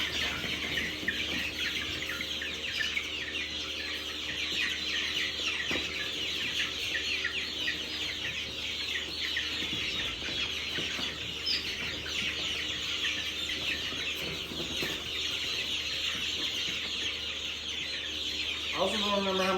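Turkeys and Phoenix chickens in a flock being moved outdoors, clucking and calling repeatedly over a constant background hum, with scattered chirps and a few faint voices.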